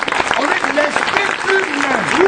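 A church congregation applauds in a dense, continuous burst of clapping that fills the room, with voices calling out and talking over the applause throughout.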